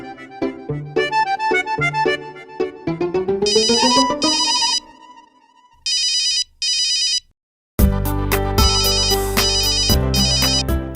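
A mobile phone plays a bright melodic ringtone, rapid chiming notes repeating in bursts with short silent gaps, then a louder fuller musical passage; loud and close, with no speech.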